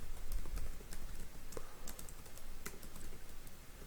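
Code being typed on a computer keyboard for a React functional component, a steady run of close, quick key clicks with irregular rhythm and no talking.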